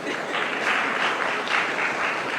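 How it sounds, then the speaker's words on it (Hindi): Audience clapping at a youth event, a dense, steady burst of applause that stays moderately loud for a couple of seconds without any speech. "तालियां भी लड़कियां ही बजा रही हैं आगे"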